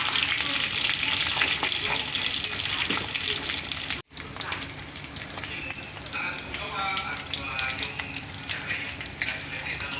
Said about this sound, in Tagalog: Piniprito ko siya.